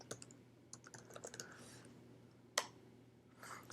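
Typing on a computer keyboard while entering an email address: a fairly quiet, uneven run of key clicks with a louder single tap near the end, heard alone against a faint steady hum.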